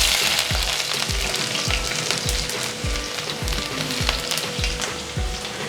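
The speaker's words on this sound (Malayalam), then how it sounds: "നമ്മുടെ വെളിച്ചെണ്ണ നന്നായി ചൂടായി വന്നിട്ടുണ്ട്. നമുക്ക് 50 ഗ്രാം ഇഞ്ചി ഇതിലോട്ട് ചേർത്ത് കൊടുക്കാം." About 50 grams of ginger fries in hot coconut oil for a prawn curry, crackling steadily. Regular scraping stir strokes sound roughly twice a second, close and clear, with no talking.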